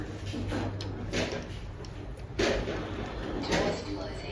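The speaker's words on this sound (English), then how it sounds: "Doors closing." Schindler 5500 machine-room-less traction lift doors at a shopping centre slide shut with soft rolling thuds and a few bumps over a steady cabin hum. Faint voice sounds come and go in the background.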